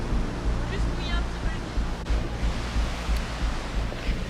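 A waterfall in Ireland rushes steadily nearby in a broad, loud wash of noise, with wind buffeting the microphone and voices faintly under it.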